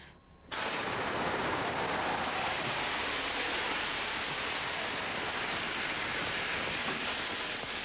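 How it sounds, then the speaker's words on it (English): Half a cup of water thrown onto a kitchen grease fire sets off a sudden, violent roaring flare-up after a brief quiet start, then a loud, sustained rushing whoosh that stays steady to the end. "We're going to actually see what happens when we throw a half a cup of water on a grease fire."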